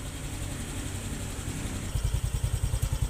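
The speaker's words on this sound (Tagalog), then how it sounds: "Yan yung tunog ng kanyang muffler" A Yamaha Mio i 125 scooter's muffler exhaust idles with a low steady rumble, then settles into a faster, regular pulsing beat near the end, heard alone and up close.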